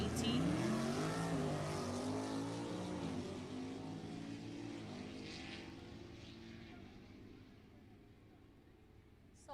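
A 2020 Ford Shelby GT500 and a 2019 Mustang GT launch down a drag strip, their engines roaring loudly at first and then fading steadily into the distance while a voice talks over them.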